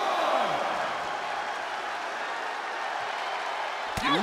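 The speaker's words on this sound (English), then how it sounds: "What a raucous crowd here tonight." In the WWE 2K23 wrestling video game, an arena crowd roars and applauds in a steady, dense wash of cheering, with a commentator's voice rising briefly over it near the end.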